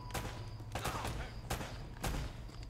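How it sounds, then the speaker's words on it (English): Gunfire from the video game Uncharted: Drake's Fortune comes in about four sharp, fairly quiet bursts spaced roughly half a second apart over a low background hum. "Now I'm getting shot up big time here."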